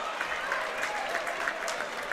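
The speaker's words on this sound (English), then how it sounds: "A standing ovation from the crowd in Truman Memorial Fieldhouse" A high school basketball crowd in Truman Memorial Fieldhouse gives a standing ovation after a sectional final win, sustained clapping and cheering filling the gym with scattered whoops.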